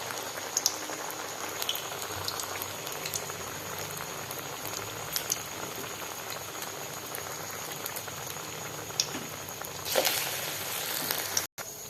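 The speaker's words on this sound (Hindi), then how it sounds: "तो चलिए इस तरीके से हम सारे पकोड़े को तल लेते हैं।" Sabudana vada fritters deep-frying in a kadhai of hot oil, a steady fizzing bubble with scattered crackles and pops, fairly close and moderately loud throughout with no talking.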